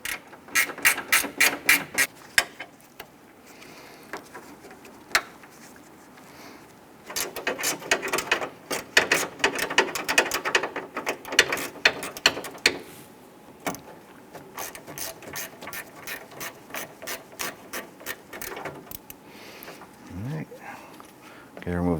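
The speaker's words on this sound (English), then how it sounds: "Use your 10mm gear wrench. We want to go ahead, loosen this and remove it." A 10mm gear wrench ratchets to loosen a bolt on a 2008-2013 Nissan Rogue during A/C condenser work, with close bursts of rapid clicking ratchet strokes in repeated runs.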